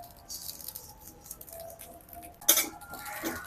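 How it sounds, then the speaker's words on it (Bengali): Hulled sesame seeds are dry-roasted in a pan without oil and stirred constantly, giving a faint, soft patter and scraping, with one sharper clink of the stirring tool partway through. "অনবরত নেড়েছে তিলটাকে আমি ভালো করে ভেজে নিচ্ছি"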